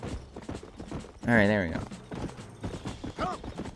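Horse hooves clip-clopping in Red Dead Redemption, a steady quick patter under someone talking, with a brief loud vocal burst partway through.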